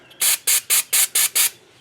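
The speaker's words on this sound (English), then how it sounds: "Spray some on the towel" Six short, loud, evenly spaced bursts of brake cleaner spray hiss close up onto a paper towel during front brake work on a Mitsubishi Raider, with no talking.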